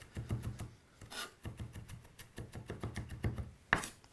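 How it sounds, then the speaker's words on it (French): A knife coarsely chops fish, prepared for accras, on a wooden cutting board, giving repeated close knocks and scraping rasps in an uneven rhythm, with a sharper tap near the end. "On va hacher grossièrement dans un sens, dans l'autre."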